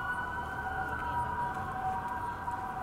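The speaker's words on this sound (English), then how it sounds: "So we hear sirens around the city here." Sirens wail steadily in the distance across a city, their tones sustained and layered over a low rumble of traffic.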